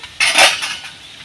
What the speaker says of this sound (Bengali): এবার কিন্তু আমি ঢাকা দিয়ে দেবো